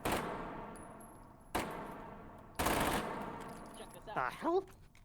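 SMG bursts in a first-person shooter, three loud rapid-fire volleys with ringing decay between them, followed by a few clinking metallic ricochet-like sounds, no talking.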